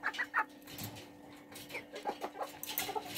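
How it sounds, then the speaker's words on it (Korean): Chicks and a small hen of the tiny Serama bantam breed give soft, quick peeping clucks in short irregular bursts, close and fairly quiet, with a steady low hum underneath. "닭을 잡으셔서 이렇게 뒤집어서 잘라주시는 겁니다."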